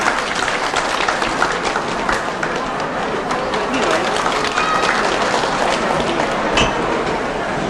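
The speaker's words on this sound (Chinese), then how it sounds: "请咱以热烈掌声来恭请伊甲咱致辞" An audience applauds to welcome a speaker at the inauguration ceremony of a temple. The clapping is continuous and dense throughout, with crowd noise mixed in, and a voice speaks over it.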